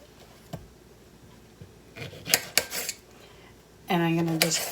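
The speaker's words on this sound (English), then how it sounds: "Now all I'm going to be doing is dicing the tomatoes." A knife dices tomatoes for canning, with a few sharp scattered taps on the cutting surface and a brief squeaky scrape near the end against a quiet background.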